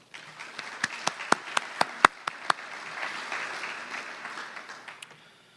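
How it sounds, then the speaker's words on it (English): An audience at a county awards evening breaks into a short round of applause, a dense crackle of clapping punctuated by a few sharp, close individual claps before it fades out alone. "Please give yourselves a round of applause"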